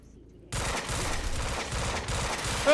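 Gunfire in the shooter game Quantum Break bursts in suddenly after a quiet moment, then continues as a dense run of rapid, rhythmic shots, fairly faint overall and without talk.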